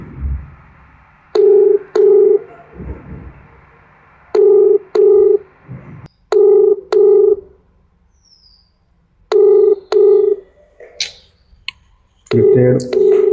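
A phone ringback tone repeats as a call goes through to a brother, sounding in close, regular double pulses separated by pauses, with faint clicks and a brief rustle near the end.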